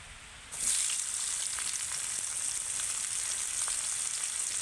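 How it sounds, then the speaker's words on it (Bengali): Chopped onions hit hot mustard oil and sizzle steadily, a loud broadband hiss that jumps up at once and holds, with small crackles and spits throughout, near and alone. "পেঁয়াজটাকে একটু ভালো করে ভেজে নেব"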